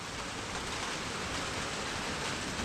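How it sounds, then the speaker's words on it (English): Steady rain from an approaching hurricane, a dense, even hiss of falling water that holds constant and fairly quiet throughout, with no voices. "Right now we're just getting winds and rain"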